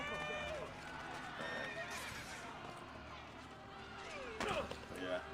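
Horse whinnying in Assassin's Creed Brotherhood, a loud neigh with clip-clop hooves and game music and effects, under someone talking throughout.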